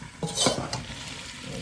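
Plantain slices fry gently in a pan with a soft steady sizzle, while a utensil briefly scrapes and stirs them near the start; close and moderately quiet.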